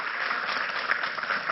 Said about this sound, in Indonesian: Tepuk tangan sekali lagi buat Pelangi.